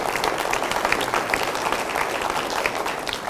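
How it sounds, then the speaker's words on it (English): An audience at a school district presentation claps continuously, a dense, even patter of many hands filling the room throughout. "So you can clap for that"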